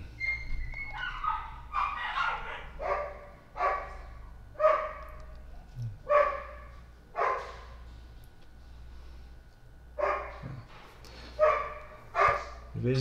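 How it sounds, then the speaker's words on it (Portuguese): Neighborhood dogs fighting in the distance, with a string of repeated barks and yelps in rhythmic bursts, moderately loud over a low steady hum. "De vez em quando vocês vão ouvir essa rinha de cachorro aí"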